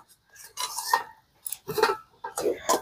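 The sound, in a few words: mixing dough of rice flour, mung dal and potato in a kadai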